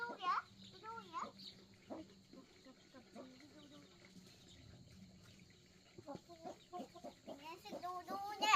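Chickens cluck around a farmyard in short rhythmic bursts, with crickets faintly in the background and children's voices chattering over the birds.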